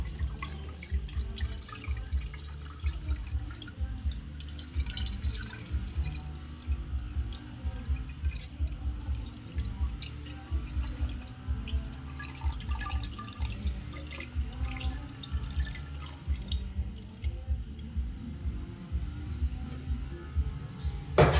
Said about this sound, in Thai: เทน้ำเกลือนะคะ เทให้ท่วมไข่นะคะ